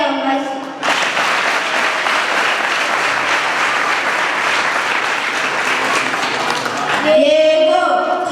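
A crowd at a youth talent show's closing ceremony breaks into loud, sustained applause lasting several seconds, then it fades as a voice returns.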